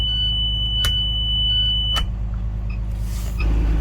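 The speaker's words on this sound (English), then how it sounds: "You're going to open it and you're going to hear, "I hear my emergency beeper."" A steady high electronic beep from a school bus emergency window alarm sounds for about two seconds over the low rumble of an idling bus engine, followed by a few soft clicks and rustles.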